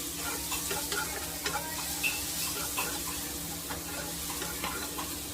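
Catla fish in mustard sauce stirred and sizzling in a pan, a steady frying hiss with repeated scraping stirs throughout, close and moderately quiet, with no talking.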